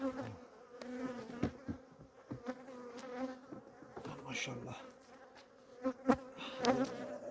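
Honeybees buzz steadily and densely around an opened hive during honey harvest, a constant close hum, with someone briefly speaking over it.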